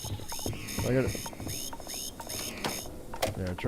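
In the video game Starfield an alarm sounds, a repeating rising electronic tone pulsing in a steady rhythm, moderately loud, before it cuts off near the end.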